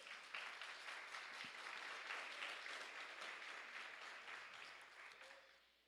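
A church congregation claps during a service, sustained applause from many hands that fills the room, then tapers off toward the end; quiet overall.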